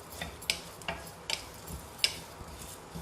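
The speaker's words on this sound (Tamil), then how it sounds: "பாருங்க, இஞ்சியும் சீரகமும் நல்லா வதக்கியாச்சு, போதும்." Soft, steady sizzle of ginger and cumin frying in a pan for ginger gravy, punctuated by a few light stirring clicks and scrapes, close and fairly quiet.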